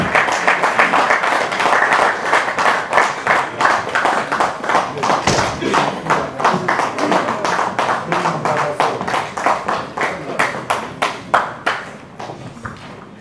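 A crowd at an album launch evening claps in unison, a loud, rhythmic beat of many hands that gradually thins and fades toward the end.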